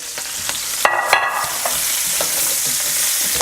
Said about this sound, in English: I'm gonna pop them in. You're gonna hear it sizzle.